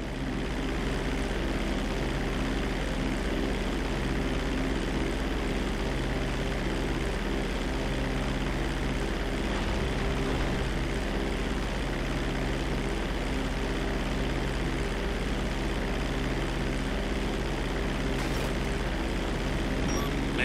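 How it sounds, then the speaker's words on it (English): A GTA 5 cargo plane's propeller engine drones in flight, a loud, steady, unbroken hum and low rumble with no speech over it. "Bring the plane back in."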